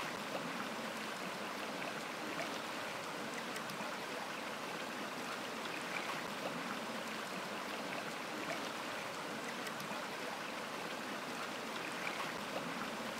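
Rainwater stream pouring down from a laterite plateau through shrubs and rocks, a steady, dense rushing and trickling flow that continues unbroken and fairly close throughout.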